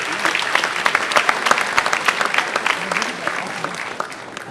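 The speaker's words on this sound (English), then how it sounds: "So a second round of applause for him." Steady applause fills a hall at a high school senior awards night, dense clapping from a large audience that slowly fades toward the end.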